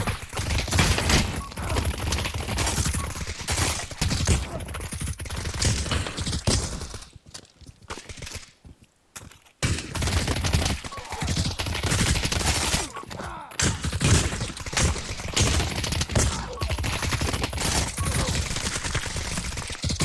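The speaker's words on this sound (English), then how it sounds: "Oh, they're shooting each other" Rapid overlapping gunfire bursts from a shooter video game, dense and loud throughout with a brief lull in the middle before the shooting resumes, no talking over it.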